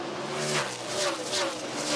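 NASCAR stock cars roar past at Martinsville Speedway during the 2007 Subway 500, a continuous blended engine drone with rising and falling pitch as the pack circulates, heard at moderate distance.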